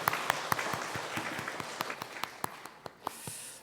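Scattered applause from a church congregation during a Sunday worship service, loose individual claps spread across the room at moderate distance, thinning toward the end.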